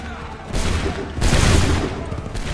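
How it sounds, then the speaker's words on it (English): Musket volleys crash in Assassin's Creed III, dense rolling fusillades of gunfire in loud overlapping bursts, one starting about halfway through and a heavier one following, with commands faintly shouted underneath. "Fire! Make ready! Open fire!"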